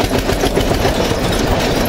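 An Eicher 241 Xtrac tractor engine runs in fifth gear, a loud, close diesel chugging with a rapid, even knocking pulse throughout.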